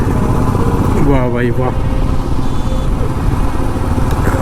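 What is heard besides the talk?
Royal Enfield Himalayan BS6 motorcycle riding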